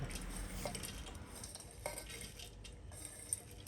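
Hot oil sizzles steadily as dried anchovies fry in a Thermomix, with light stirring and occasional metallic clinks from utensils against the pot.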